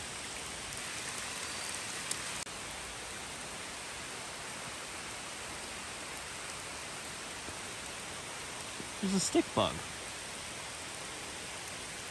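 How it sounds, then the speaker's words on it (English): Steady, dense rain falls outdoors at night on a road, a constant hiss throughout, with someone briefly speaking over it near the end. "Just having a really hard time with the rain."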